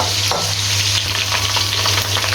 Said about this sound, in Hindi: ये इसके अंदर ऐड कर देने हैं और इनको हमने इधर लाइट ब्राउन करना है